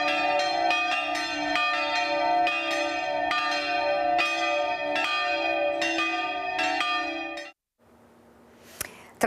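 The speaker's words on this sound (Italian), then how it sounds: "campane a festa hanno suonato" Church bells in Veneto, Italy ring in a festive peal, several bells struck repeatedly and ringing out loudly, then cutting off to quiet background with a faint click.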